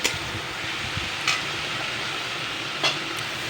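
Malabar spinach with chili powder cooks in a pan as water goes in, giving a steady close sizzle with two brief stirring scrapes.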